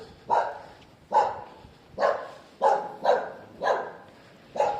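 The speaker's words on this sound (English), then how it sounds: "and here's one dog" A single dog in the hilltop Andalusian village of Comares, Spain, barks seven times in a steady, evenly spaced rhythm, moderately close and fairly loud against quiet outdoor surroundings.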